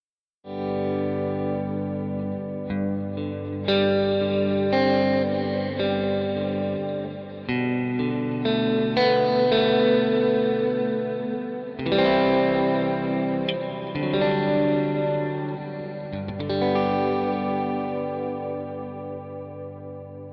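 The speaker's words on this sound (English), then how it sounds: "Snapshot 5 is the big ambi preset. So this has that dual delay and the glitz verb on." An electric guitar, a Strat in the fourth pickup position with no drive, plays chords and notes through a dual delay and glitz reverb preset with long decay and a big mix, loud, steady and alone, with sustained washes between attacks.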